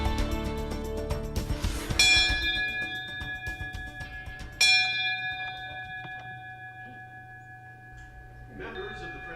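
A bell rung by the Franciscan Sisters of Perpetual Adoration to mark 135 years, with bright ringing strikes near the start, around two seconds, mid-clip and at the end, each tone decaying slowly over a low background rumble.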